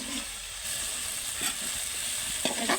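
Spice masala sizzles and fries in a pan while being stirred for a hilsa fish curry, a continuous dense crackling hiss with occasional scraping stirs, close and steady without any talk.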